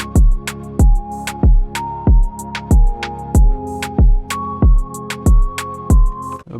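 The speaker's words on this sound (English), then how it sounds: "Now the drum pattern with the elements of the chorus all together sound like this." A beat built in FL Studio: punchy, booming kicks land on a steady bouncing pattern, layered with sustained synth chorus chords and crisp hi-hat and percussion ticks, loud and upfront with no voices.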